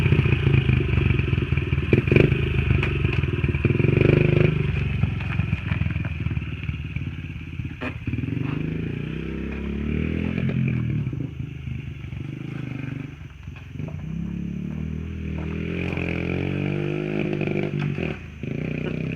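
A Honda XR50 pit bike with an aftermarket exhaust pipe buzzes and rasps as it is ridden. The revs rise and fall while the bike moves nearby, with light clatter, and voices come in briefly.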